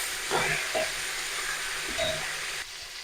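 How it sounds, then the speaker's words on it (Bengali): A rohu fish head fries in hot oil in a home kitchen, making a steady sizzle and hiss with a few louder bursts of crackle, heard close and alone. "মাছের মাথাটা প্রায় ভাজা হয়ে গেছে।"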